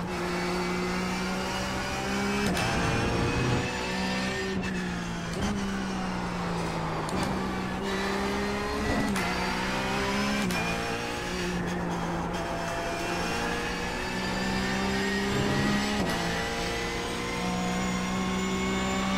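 A car engine roars in a racing video game, revving high and steadily with repeated sharp gear-shift drops and climbs in pitch, loud and continuous throughout.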